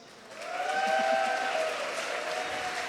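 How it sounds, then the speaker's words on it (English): At a leather community event, an audience applauds in a rising swell that peaks and then settles. Cheers and whoops ring out over the clapping. "They deserve another round of applause."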